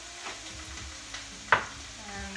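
Stir fry noodles are tossed and mixed in a pan, making soft stirring and sizzling sounds close by, with one sharp utensil clack near the middle.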